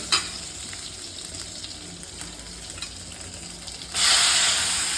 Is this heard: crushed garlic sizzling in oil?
yes